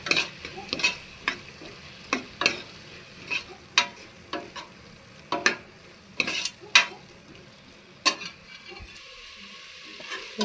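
Chilli powder, coriander powder and garam masala being stirred into ginger-garlic in a pan for prawn biryani, sharp spatula scrapes and clinks repeating over a low steady sizzle, close and without voices.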